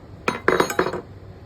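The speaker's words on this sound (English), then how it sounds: "we're going to be changing it from your regular whisk to your kneading whisk" A stand mixer whisk being swapped for a spiral kneading hook: a quick cluster of four or five bright metallic clinks and clatters, close and clear, with no talking.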